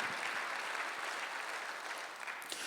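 A church congregation at a Sunday worship service breaks into applause, steady and full across the room, with the clapping holding at an even level throughout and no voices rising above it.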